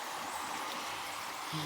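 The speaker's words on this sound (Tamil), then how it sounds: "எப்படி கொட்டுது பாரு மழை" Heavy rain pouring in a steady, dense wash of hiss that stays constant and fairly close, with no one talking.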